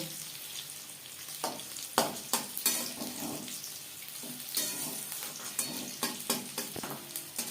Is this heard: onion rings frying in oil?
yes